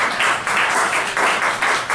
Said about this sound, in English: Aha, another round of applause.